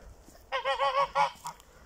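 Several geese honk loudly in a rapid, overlapping series of nasal calls, close by in a December garden, followed by a couple of shorter honks.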